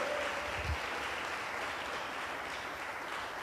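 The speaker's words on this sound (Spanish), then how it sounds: "Dele fuerte las palmas al Señor" Church congregation clapping hands for the Lord, a steady, fairly faint blur of many hands heard at a distance in a reverberant space, continuing without a break.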